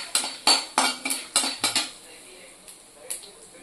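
Pirandai stirred and sautéed in a metal pan: a quick run of about seven sharp spoon-on-pan scrapes and clinks, close and crisp, then a few softer, sparser taps as the stirring slows.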